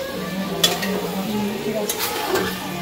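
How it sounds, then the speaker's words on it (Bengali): Meat stirred and fried in a pan, a steady sizzle with scraping stir strokes and a few sharp utensil clinks against the metal, close and moderately loud throughout. "এই হলো আমাদের রাধুনি রান্না করছে সাদা সাদা মাংস।"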